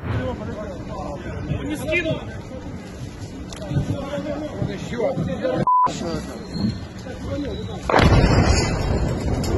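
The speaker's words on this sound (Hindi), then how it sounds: "रूस दिन दहाड़े बमबारी कर रहा है" Artillery bombardment in wartime Russian shelling, heavy booming blasts and rumbling fire running throughout, loud, with a brief beep and a burst of harsher noise near the end, under crowd babble and a voice.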